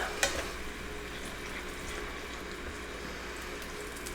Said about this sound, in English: I'm going to grab a spatula here, and we're just going to kind of stir this up a little bit.